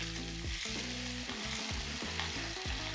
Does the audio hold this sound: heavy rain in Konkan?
no